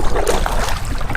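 A paddle pulls through the water of the Wanapitei River, a brief, close wash of splashing and swirling water in one continuous stroke.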